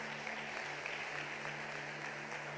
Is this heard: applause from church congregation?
yes